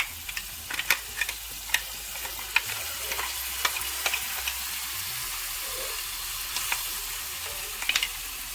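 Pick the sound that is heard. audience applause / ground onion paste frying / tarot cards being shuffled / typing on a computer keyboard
ground onion paste frying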